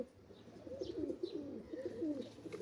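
A pair of pigeons cooing, soft repeated low throaty coos rolling close by against a faint, steady background hiss.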